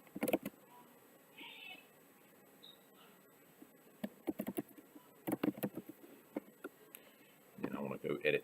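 Typing on a computer keyboard, scattered bursts of quick clicky keystrokes in short clusters separated by pauses, fairly close and alone.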